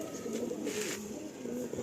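An original star pigeon from a loft breeding pair coos in low, throaty rolling phrases close by, with a faint hiss of background noise and no talking.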